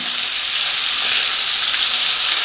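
Prawns with turmeric and salt hissing loudly in hot oil, a dense, even, close sizzle that holds steady without pause.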